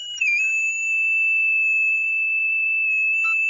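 An imitated elk location bugle, a high, ringing call with little variation, sounds as one loud, close, sustained whistling tone that holds steady for about three seconds with no other sound around it.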